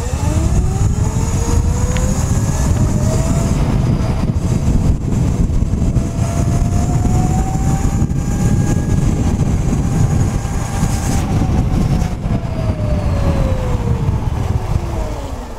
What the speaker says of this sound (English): I thought I'd do a video on this electric bike I built